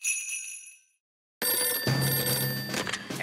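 Old-style telephone bell ringing in a French children's cartoon, two bright, close rings separated by a short silence, the second burst longer with some background activity mixed in.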